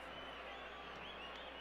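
A stadium crowd roars in a steady, distant wash of noise at a 2003 Gold Cup soccer match between Mexico and Brazil, holding an even level throughout with no distinct voices.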